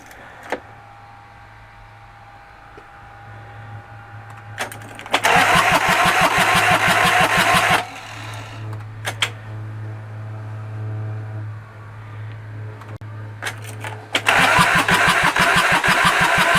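Kubota K008 mini excavator diesel engine, exhaust just cleared: a low idle hum broken by two separate starter cranks, each catching into a rattling, louder run before settling, heard up close with no talking.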